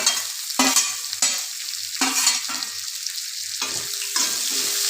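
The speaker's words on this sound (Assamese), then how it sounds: "এতিয়া মই ইয়াতে কাটি ৰখা আদা, নহৰু, পিঁয়াজ সকলোবিলাক ইয়াতে মই দিছোঁ।" Chopped ginger, garlic and onion go into hot oil with frying spices, setting off repeated bursts of sharp sizzling and scraping stirs in an uneven rhythm, close and fairly loud, with no talking.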